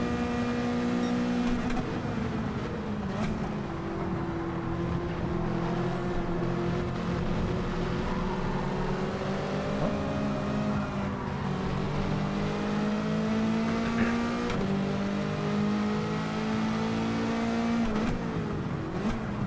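Race car engine in the video game Gran Turismo 7, a steady loud drone with rising and falling revs as gears shift, continuous and close throughout with no talk.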